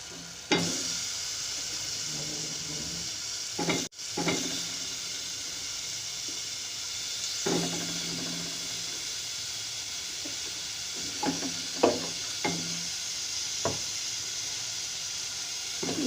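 Potatoes and tomatoes tipped into fried masala for aloo methi and stirred: a constant, close hiss of frying with several scattered spoon knocks and scrapes against the pan, and no voices.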